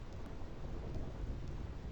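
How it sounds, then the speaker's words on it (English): Continuous low rumble of thunder within a rainy storm in Final Fantasy X, a steady dense roar with rain hiss across the whole stretch and no distinct crack. "I hate thunder."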